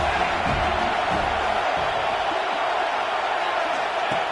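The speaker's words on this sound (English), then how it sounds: "3rd down and the crowd really getting into it." A football stadium crowd roars on third down, a sustained, far-off wash of cheering that holds steady throughout with a few faint whoops rising above it.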